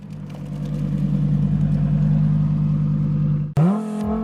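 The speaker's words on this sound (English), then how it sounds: "Justin pulling up in the Evo." A Mitsubishi Evo pulls up nearby with a loud, steady engine drone that swells gradually, then breaks off sharply near the end as the revs shift to a higher whine.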